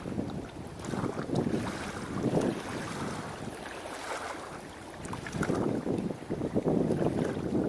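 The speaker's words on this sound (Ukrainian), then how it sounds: "десь на вечір ще піднявся вітер сильний" Strong evening wind at a riverside fishing spot in Osokorky, Kyiv, buffets the microphone in loud, uneven surges, with water lapping faintly beneath.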